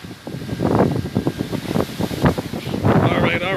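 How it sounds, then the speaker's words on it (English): Gusty Hurricane Ida wind at landfall roars and buffets the microphone in loud, uneven surges, with voices faintly mixed in. "So, yeah, the wind blows."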